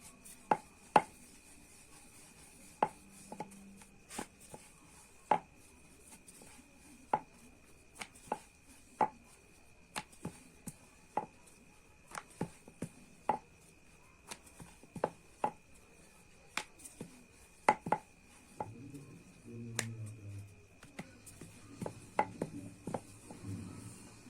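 Methi paratha dough rolled out with a rolling pin on a floured board, giving a quiet, steady series of sharp wooden clacks and light rolling rubs at close range, with no voices.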